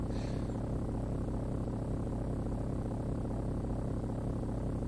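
Propeller engine of a biplane in the Amiga game Zak McKracken, a steady low throbbing drone that holds constant and alone throughout.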